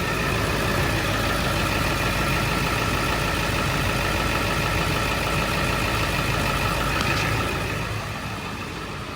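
A Ford 7.3 Powerstroke diesel farm truck engine idles steadily and loudly up close, then drops slightly in level near the end as it winds down.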